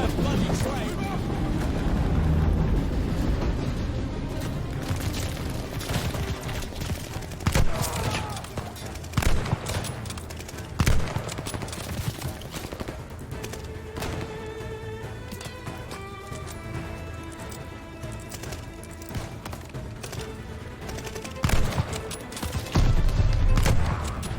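Gunfire in the video game Call of Duty: Vanguard: rapid bursts of shots crack repeatedly over a busy, noisy battlefield mix with voices underneath.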